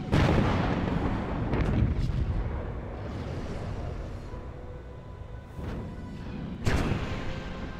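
Spaceship weapons firing in the space strategy game Nexus: The Jupiter Incident, a dense, continuous roar of booming cannon blasts and rumbling impacts, with louder bursts near the start and end and no talking.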